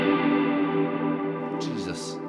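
A guitar plays through a Cornerstone Nucleo reverb pedal, sustained washy tones with long, shimmering decay, and a voice briefly enters near the end.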